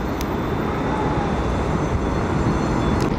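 An airliner pushes back at Fort Lauderdale airport, its engines and ground equipment producing a loud, steady, unbroken roar.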